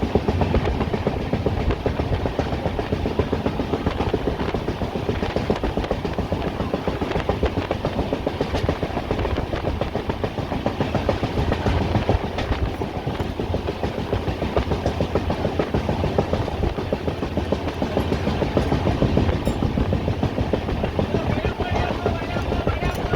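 The Azad Hind Express, a long-distance train from Howrah to Pune, rolls along the rails with a continuous rumble and steady clickety-clack of wheels over joints, heard at close range throughout, with faint voices at times.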